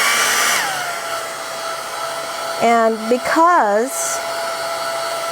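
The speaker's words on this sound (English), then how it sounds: "have a dryer on hand to dry that" A hair dryer runs steadily to dry paint on a colour-mixing sheet, its motor whine shifting pitch partway through, with a brief spoken word over it.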